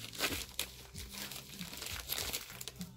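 Paper crinkling and tearing as a white envelope from a Secret Santa gift exchange is opened, a steady close rustle with a few sharper rips over about three seconds, no talk.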